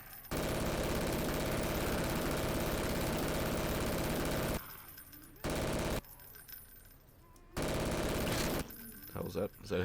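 A mounted gun in Garry's Mod with Half-Life 2 zombies blasts rapid, continuous bursts, one long loud stretch followed by two shorter volleys separated by quieter gaps.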